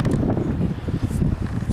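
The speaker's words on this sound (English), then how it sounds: "It's quite a windy day today" Strong wind buffets the microphone on the Cleethorpes seafront promenade beside the River Humber on a sunny day, a steady low rumbling roar with gusty swells throughout and no talking.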